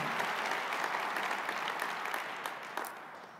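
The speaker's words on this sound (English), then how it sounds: "y'all can give a round of applause for that" An indoor audience applauds at the Atlanta State of the City Address 2012, a dense, steady clapping that fades slightly toward the end.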